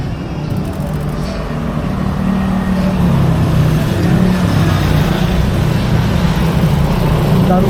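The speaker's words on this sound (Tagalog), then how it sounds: "Dami sasakyan." Busy road traffic with many cars, buses and trucks passing, a loud continuous engine rumble and road roar, nearby vehicles swelling past, with people talking over it.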